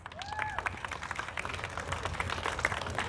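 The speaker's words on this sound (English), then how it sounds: "Let's give them a round of applause." Audience applause at a ribbon cutting ceremony for Valley Baptist Outpatient Imaging in Wasaga, a steady crowd clapping that fills the short stretch with dense, even patter, a few brief voice-like tones showing over it.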